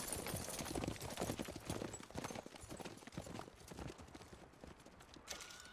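Horses gallop in Red Dead Redemption 2, a dense, rapid patter of hooves clip-clopping steadily throughout, fairly quiet and mixed with scattered clatter, with no voices over it.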